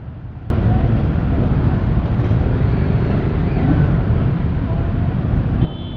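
Several motorcycles idle and purr at a Christmas charity ride departure, a steady loud low rumble throughout that rises slightly after a brief opening moment.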